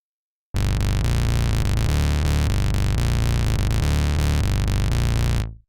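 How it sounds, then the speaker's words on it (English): An FM bass synthesizer plays a loud, dense bass line of sustained, buzzy notes that shift pitch in steady succession, starting abruptly and cutting off cleanly after about five seconds. "I'll add some random FM bass synth and write a bass line."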